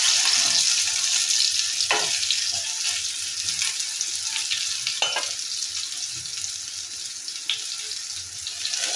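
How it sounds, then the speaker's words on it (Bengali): Brinjal fritters frying in a small amount of oil, giving a steady, close hiss of sizzling with a few brief clatters and splashes, and no talking. "আর খুব অল্প তেলেই কিন্তু এটা ভাজা যায়,"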